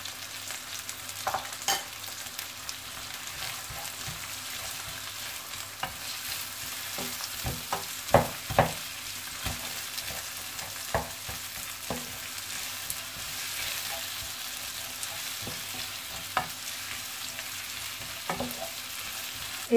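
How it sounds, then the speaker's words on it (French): Garlic fries in a pan while cooking bacalhau à Brás, a Portuguese salt cod dish. A steady soft sizzle runs throughout, broken by sharp clinks and scrapes of stirring, with no voices. "Je vais rajouter que l'ail pour l'instant."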